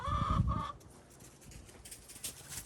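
Backyard laying hens give a few close, loud clucks in the first moment, then their soft rustling and faint scratching continue at a distance with no talk.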